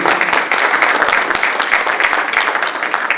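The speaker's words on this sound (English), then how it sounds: "Let's give Tony a round of applause." Moderately loud applause from a business chamber of commerce breakfast audience, a dense patter of many hands clapping steadily for a few seconds with some voices underneath.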